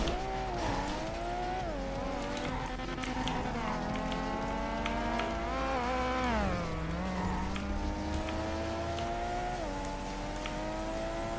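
Engine of a car in a racing video game, revving up and down with shifting pitch and occasional tire squeal, steady and close throughout.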